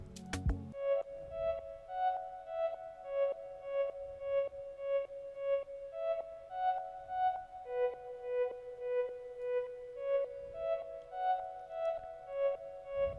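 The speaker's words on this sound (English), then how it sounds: "this sound was selected from a plugin called Elix, and we are using the flute preset" A flute preset from the Elix plugin plays a sustained, gently wavering melodic line over a soft, steady backing, with clear tonal notes stepping between pitches at a moderate level and no voices.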